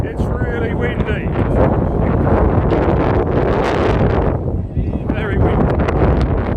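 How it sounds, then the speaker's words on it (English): Strong wind gusting across the Acropolis hilltop in Athens, roaring and buffeting the microphone continuously, with a voice faintly audible beneath the blustery rumble. "It's really windy."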